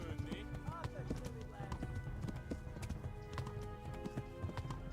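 A horse gallops in Kingdom Come: Deliverance, its steady clip-clop hoofbeats running continuously and fairly close, with a voice talking over the hooves.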